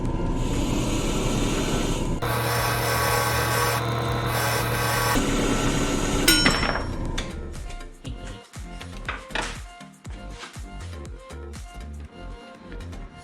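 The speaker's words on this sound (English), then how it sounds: "I'm gonna go hit up the wire wheel on this guy" A wire wheel cleans a seized bolt during wheel and master cylinder work, a loud continuous grinding whir that stops abruptly partway, followed by scattered clanks and handling noises with no voices.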